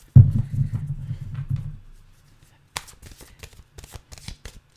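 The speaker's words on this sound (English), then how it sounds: "you're supposed to shuffle your cards" A deck of tarot-style cards is shuffled in a quiet room, with a loud rapid riffle of cards over the first two seconds followed after a pause by softer, scattered slapping and sliding of cards.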